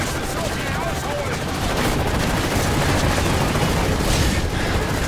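Dense, continuous gunfire in Call of Duty: Modern Warfare 3, mission Persona non Grata, with rapid bursts and shots layered into a loud, busy battle mix, steady throughout with no talking.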